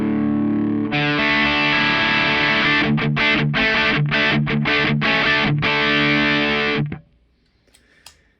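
A heavily distorted electric guitar plays loud sustained chords with a few rhythmic choppy stabs, then cuts off and rings out into near silence.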